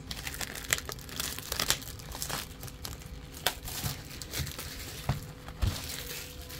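Crinkling, tearing plastic wrapper pulled off the top of a 2024 hobby trading card relic box, close and moderately loud, with scattered crackles and a few sharper rips over several seconds.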